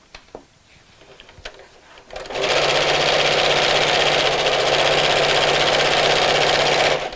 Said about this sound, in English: as you're sewing over fleece like this, or any kind of wadding actually, that your machine seems to be slowing down a bit